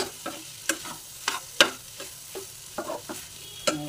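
Spoon stirring food in a pan after coriander leaves go in, while preparing pizza, with rhythmic scraping strokes over a soft sizzle, close and steady with no talking.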